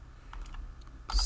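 Typing on a computer keyboard: a few light, quick key clicks, then a louder burst of keystrokes at the end, close and alone over faint room hum.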